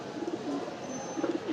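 Pigeons at a rooftop loft on a still, hot midday, with female birds let out to fly, give soft repeated low coos over quiet background hiss.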